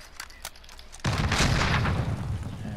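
Sustained video game gunfire aimed at an enemy aircraft: after a second of quieter ambience a dense, loud burst of rapid shots starts abruptly and continues steadily to the end.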